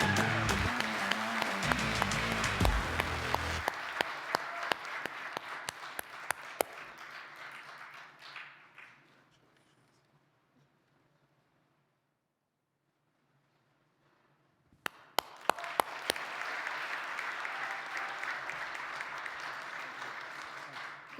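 Audience applauding a 2024 Uplifting Athletes Young Investigator Award recipient at an NTSAD event: dense, loud clapping that fades to near silence around the middle, then swells back into full applause.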